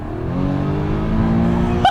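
An Audi S3 with the DK400 upgrade, driven in sports gearbox mode, revs hard and climbs steadily in pitch. The engine note is loud and sustained, heard from inside the car.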